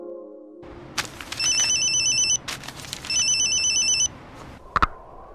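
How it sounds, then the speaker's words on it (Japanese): A telephone trills twice in a drama scene, two bright warbling electronic rings close by, with a click as the receiver is picked up right after. "もしもし、カオル様ですね。"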